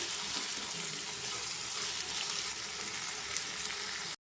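Tomatoes fry with cumin and garlic in a pan for a ridge gourd and dried shrimp curry, giving a steady, even sizzle that holds for several seconds and then cuts off abruptly.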